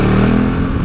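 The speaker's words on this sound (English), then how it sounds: "It's got the classic Ducati grunty sound, which I love." A 2017 Ducati Multistrada 950 engine revs loud and close, a steady deep grunty drone with a throaty low rumble held through the short burst, no voices over it.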